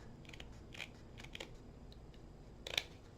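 Scissors cutting along marked lines in burlap, a few faint, quiet snips and crunchy fabric cuts spaced irregularly, the sharpest one near the end, no voices.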